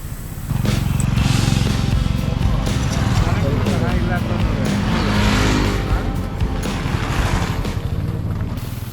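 Motorbikes of riders arriving on a hill road at Devarayanadurga Hills, a loud continuous engine rumble that swells and holds close by throughout, with a person talking over it.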